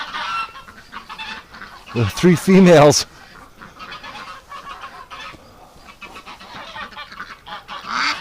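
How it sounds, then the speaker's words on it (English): Upset geese let out a loud, honking burst lasting about a second, close by, while ducks mate nearby; someone talks before and after. "The geese are getting upset as the ducks are mating."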